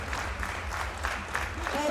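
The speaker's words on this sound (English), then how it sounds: "Big round of applause, folks, for your top three lifters in this men's category Summer Open." An audience applauds the top three lifters at a men's category weightlifting meet, with steady clapping under a voice talking over a loudspeaker.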